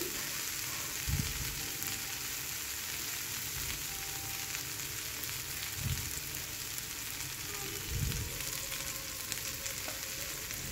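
Raw papaya pieces frying with mung dal in a pan, a steady moderate sizzle running throughout with a few soft thuds of stirring at intervals, close and without speech.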